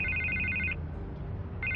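A telephone rings in two electronic bursts separated by a short pause, loud and close over a low background rumble.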